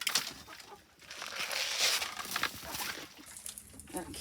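A flock of 23 chickens in a walk-in coop cluck and squawk close by in an irregular scatter of calls, with a person talking at times over the flock.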